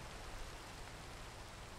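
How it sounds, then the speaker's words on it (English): Rain in the game Minecraft, a faint, uniform hiss of falling rain, low in level and unbroken through the brief moment, with no speech. "It's raining!"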